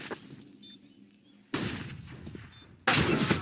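Counter-Strike gunfire during a professional match on the map Ancient, two loud, dense bursts of shots separated by quieter gaps, close and punchy, with no talking.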